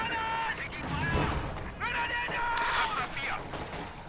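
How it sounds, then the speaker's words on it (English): Enemy gunfire crackles through a WWII strategy game battle between US and German forces, dense bursts of shots layered under game voice callouts and a busy, continuous battlefield din. "Enemies firing on us! Taking fire!"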